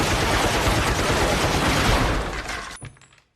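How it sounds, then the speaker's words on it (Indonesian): A Gatling gun in a film fires a dense, unbroken burst of rapid shots that stays loud, then drops off abruptly into near silence at the end. "ia pun memakai peralatan modern yaitu Gatling Gun yang dapat melepaskan beberapa peluru dalam satu kali tembakan"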